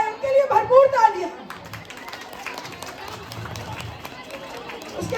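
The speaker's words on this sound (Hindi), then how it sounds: "उनके लिए भरपूर तालियां" Audience applause at a school fun gala, with tonal speech or music at the start, then a steady, moderate spread of clapping and crowd noise that runs through the rest.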